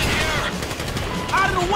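Gunfire in GTA 5 during the Paleto Score heist, rapid bursts of automatic shots mixed with voices shouting over the noise, loud and close.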